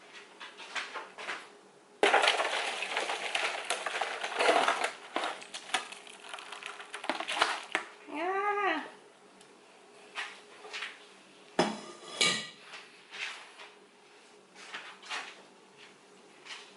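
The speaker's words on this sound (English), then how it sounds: "I'm about to just grab it off of the stove and transfer it into this aluminum dish." Cooked sauerkraut is moved from a stove-top pot into an aluminum dish, with irregular clanks, scrapes and metallic crinkles, a few loud knocks and a brief squeak, close by.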